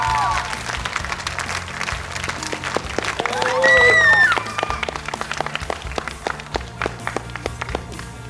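An audience applauds after a child's performance on a talent show, scattered claps building into a louder swell midway then thinning, mixed with crowd noise, some footsteps and a voice speaking over it.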